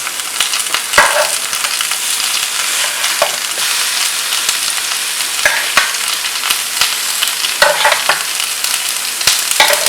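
Sausages and mushrooms fry on an Aldi multi portion grill pan, giving a steady broadband sizzle with intermittent scraping and stirring clicks scattered throughout, close and fairly loud, with no one talking.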